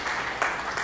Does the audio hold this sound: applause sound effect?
yes